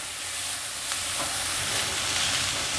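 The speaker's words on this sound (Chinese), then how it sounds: "轻轻的翻炒，" Carrots stir-fried in a hot pan with celery, a loud continuous sizzle with faint scraping of a spatula, close and without speech.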